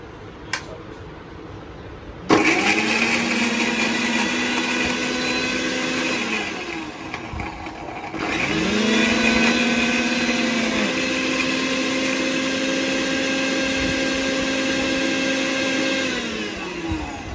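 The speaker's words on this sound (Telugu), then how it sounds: "మిక్సీకి పెట్టిండు, తింపిండు, మూత పెట్టేస్తాడు, పెట్టేసిండు." A kitchen mixer grinder whirs loudly up close in two runs, starting abruptly, briefly dropping and restarting, then holding a steady high-pitched motor drone before cutting off.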